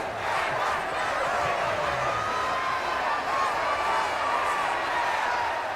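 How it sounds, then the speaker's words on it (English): Stadium crowd in the video game Madden NFL 25, a continuous dense roar of cheering and applause at moderate level, steady throughout with no distinct individual claps. "How about some applause for the defense there?"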